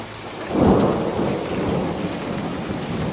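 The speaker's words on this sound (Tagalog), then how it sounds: "sakto naman ang pag-ambon hanggang sa unti-unti nang bumabagsak ang ulan" Thunder rumbles low and heavy over steady falling rain, the roll swelling near the start and fading into a continuous downpour hiss, with no voices.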